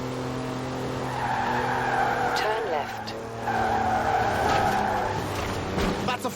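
A four-wheel-drive rally car on knobbly mud tyres slides completely sideways in Forza Horizon 4, with continuous engine drone and tyre skid building and easing over several seconds. A voice speaks briefly over it.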